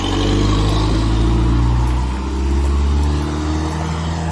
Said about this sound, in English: That was a FedEx truck.